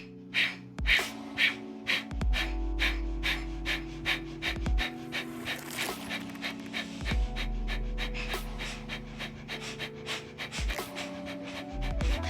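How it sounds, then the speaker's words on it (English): A person does the breath of fire exercise: quick, forceful panting breaths through the nose in a fast, even rhythm, broken by a few brief pauses, close and clear over a soft, low background drone. "Breath of fire."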